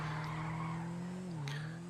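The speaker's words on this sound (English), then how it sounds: "It drifts so well, and as I'll show you now, it drifts so well." Karin Futo drifting in GTA 5 Online, engine droning steadily at a sustained pitch with a sharp tire chirp near the end, loud and close with no talk.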